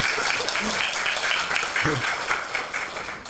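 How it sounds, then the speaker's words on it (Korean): A crowd at a teachers' training session applauds steadily to welcome a speaker, a dense patter of clapping with a voice briefly audible underneath. "큰 박수로 모십시오."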